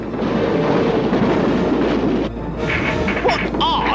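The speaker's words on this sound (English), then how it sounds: "Trying to stop this train!" A runaway train with a stuck wheel rushing along the rails, a loud continuous rumbling roar with clattering, briefly dropping then resuming with higher squealing tones as voices shout over it.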